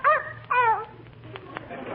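A small dog's yapping barks from an old-time Christmas radio drama sound effect, two sharp high yips close together near the start, then quieter whining and faint background noise.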